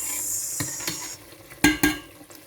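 Beans tipped into hot oil in a pot give a brief sizzle and scraping stir, with two sharp clanks of a utensil against the pan, close and fairly quiet.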